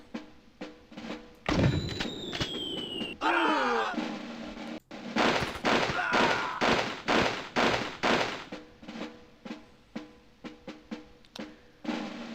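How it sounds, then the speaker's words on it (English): Mortar strike explosions in an Army Men video game: a run of heavy blasts and thuds, some with whistling descents, arriving in quick succession and then spacing out into separate booms. "Now you get the mortar treatment"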